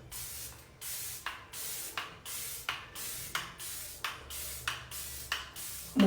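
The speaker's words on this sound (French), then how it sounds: "je vais mettre le spray fixateur de make-up en premier" A pump bottle of make-up setting spray mists in about a dozen quick, soft hissing bursts at a steady rhythm, close and fairly quiet.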